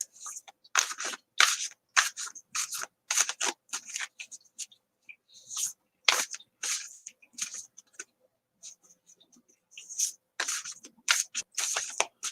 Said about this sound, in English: Let me shuffle these for Jamie.